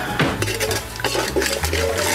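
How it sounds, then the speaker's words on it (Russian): Sugar and salt stirred into a pot of boiling bean salad mixture for preserving, close clattering scrapes of a spoon against the pot over bubbling liquid, continuous and fairly loud with no talking. "Хорошенько все это перемешиваем"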